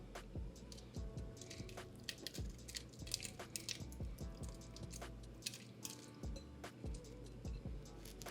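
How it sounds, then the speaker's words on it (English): Chunks of beef stew meat drop back into a pot with wet squishing plops and drips, a steady run of close, moist thuds and splats with no talking. "so now we're gonna add the meat back to the pot."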